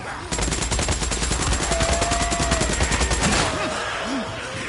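Rapid automatic gunfire in the PS5 game Days Gone, a loud continuous burst of rattling shots for about three seconds, then it stops, leaving quieter game sounds and a couple of faint electronic chirps.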